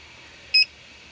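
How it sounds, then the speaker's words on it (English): A 3D printer gives a single short electronic beep, a clean two-tone chirp, once against a quiet background hum. "the printer is now beeping at me"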